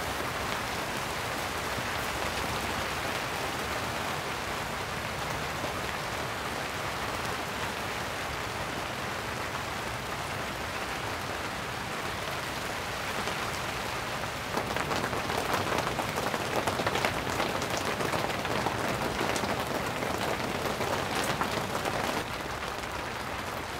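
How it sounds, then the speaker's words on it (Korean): Heavy rain falls on a long-stay camping tent as a dense, steady hiss of close drumming that grows slightly louder and fuller partway through, with no talk. "지금은 비가 많이 오는데 다행히 일기예보가 바뀌어가지고 오늘 비가 그친대요."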